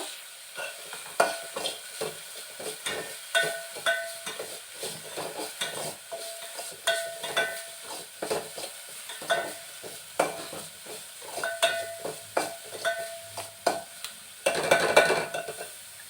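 Spices sizzle and crackle in hot oil close by, with repeated stirring scrapes and clinks of a utensil against the pan.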